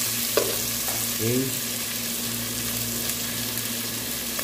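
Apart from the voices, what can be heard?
sautéing onion, tomato and garlic in a pan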